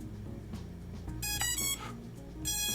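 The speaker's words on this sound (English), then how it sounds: "those beeps, they just sound all futuristic" Bright electronic beeps from a DEERC DE22 GPS drone powering on ring out in two short clusters of rapid tones over a low background hum, moderately loud and close.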